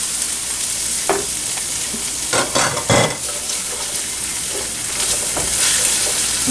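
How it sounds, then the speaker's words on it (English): Onions frying in a pan for shrimp pad thai give a steady, loud sizzle, with a few brief stirring scrapes and bursts partway through and no talking. "Alright, onions go in."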